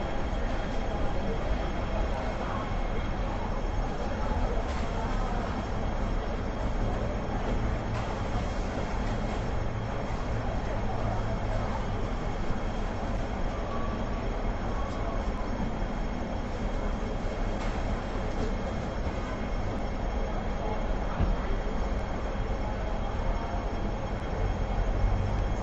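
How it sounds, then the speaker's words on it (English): A double-decker tram rolls across Hong Kong Island, producing a steady, loud, unbroken rumble of wheels and motor from on board, with no speech standing out. "This is a double-decker tram, much like those."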